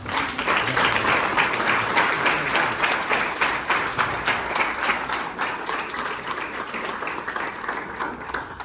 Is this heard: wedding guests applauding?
yes